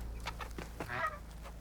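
A bird in the video game Horizon Forbidden West clucks a few times in short, chicken-like bursts over a low steady background hum, with no talking.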